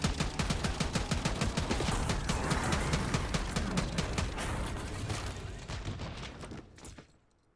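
Rapid, loud, dense gunfire in the video game Black Ops 6, a sustained rattling burst of shots near and close that fades out at the end.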